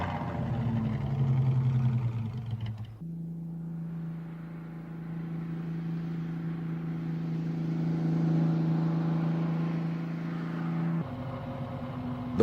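A 1935–36 BMW 315 two-seater's engine runs in a steady low rumble, loud and close, with a change in tone near the start and again toward the end, no voices over it.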